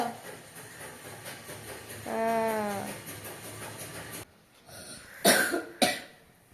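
A child with a cold coughs a few times in short, harsh bursts near the end, after a drawn-out tonal sound, close by and fairly quiet.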